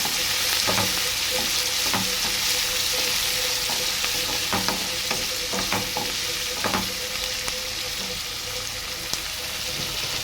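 Ivy gourd pieces and tomatoes sizzle steadily in a hot pan while a utensil stirs them, giving repeated close scraping and clacking strokes over a constant loud frying hiss.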